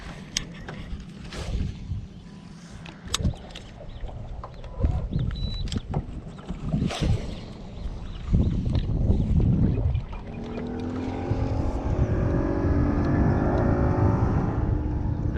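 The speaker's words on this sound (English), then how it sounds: "the boat runs right towards our spot" A motorboat engine on Lake Fork, East Texas, grows from a distant drone to a louder, steady roar as it nears, with thumps and rustles close by early on.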